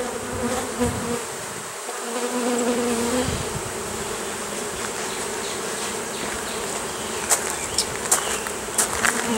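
Honey bees buzzing around a hive, a dense continuous hum of many insects close to the microphone, with individual bees darting near and away over the steady swarm drone.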